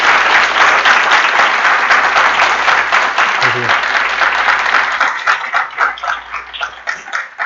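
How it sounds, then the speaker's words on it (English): An audience at an industry guest speaker talk about Epic Games breaks into loud, sustained applause that thins out toward the end, with a voice briefly heard over the clapping. "I think we owe you a round of applause"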